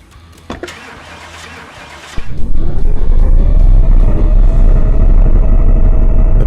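A rough car engine in the Car Mechanic Simulator 2018 video game, on a car that needs a muffler, cranks and catches, then settles into a loud, coarse, steady rumble that rises slightly in pitch and holds alone.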